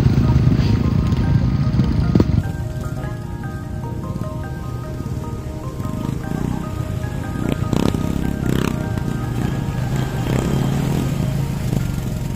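A motorcycle grinds along a rocky trail, its engine droning steadily up close with bumps and clatters over the stones, while a voice talks over the ride.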